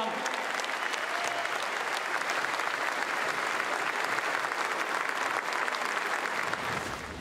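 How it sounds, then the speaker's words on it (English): A rugby league stadium crowd at a Parramatta Eels home match applauds in tribute to the late Johnny Mannah, a broad, steady roar of clapping from thousands that holds evenly for several seconds. "Stand to attention, applause."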